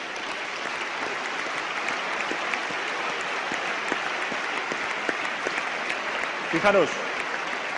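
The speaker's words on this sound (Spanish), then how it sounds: "y para el que os pido que demos un aplauso" A conference audience at a political gathering applauds steadily, a dense wash of clapping that holds evenly throughout, with a brief spoken word near the end.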